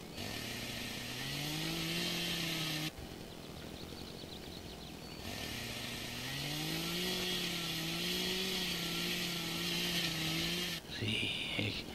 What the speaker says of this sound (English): See, it's just being let loose with a chainsaw.